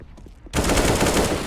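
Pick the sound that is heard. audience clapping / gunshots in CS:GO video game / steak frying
gunshots in CS:GO video game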